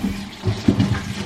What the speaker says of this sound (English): wash your potatoes.